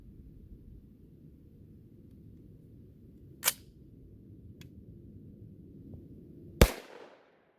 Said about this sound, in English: Here we go, 22-250, 40 grain, over the chronograph.